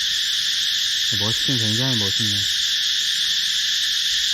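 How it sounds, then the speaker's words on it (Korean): Loud, steady drone of cicadas or other insects calling at night in Khao Yai, Thailand, filling the whole stretch while someone briefly speaks partway through. "저녁에는 이 매미 소리인지 뭔 소리인지 굉장히 커요"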